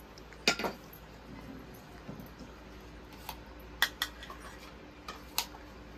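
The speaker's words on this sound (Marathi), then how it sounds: "सलाद वगैरे कापून चालू आहे." Salad vegetables being cut in a home kitchen, with a few sparse, sharp knife taps and light clinks against a board and dishes, close and fairly quiet.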